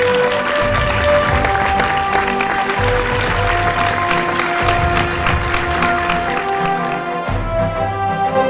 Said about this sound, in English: I request our Chief Guest, Mr. Salau Olelekan Valiullah, Occupational Therapist, Assistant of Children Humanity Foundation, Nigeria, to the stage with a big round of applause